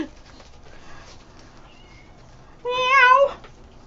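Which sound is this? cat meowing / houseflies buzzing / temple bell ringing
cat meowing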